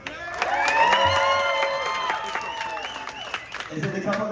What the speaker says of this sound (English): cheer for your favourite couple